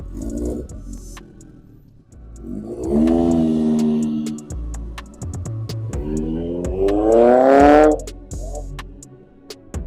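A black 1980 Honda CB750 cafe racer motorcycle accelerates on a test ride, its engine note rising and falling through two loud revving passes, with quieter idle gaps in between.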